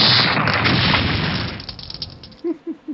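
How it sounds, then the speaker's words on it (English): A loud explosion blast in the video game Constructor, a long roaring burst that decays over about two seconds, followed by a few short thumps. "I think they've just had an explosion"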